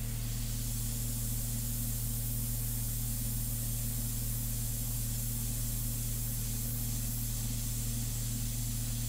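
An airbrush sprays India ink in a steady, unbroken hiss that holds at an even level throughout, with a constant low hum beneath it.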